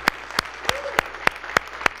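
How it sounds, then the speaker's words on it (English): A church congregation claps in a slow, even rhythm, seven sharp claps spaced about a third of a second apart, with a brief vocal sound mixed in partway. "Oh, that's just a hand clap."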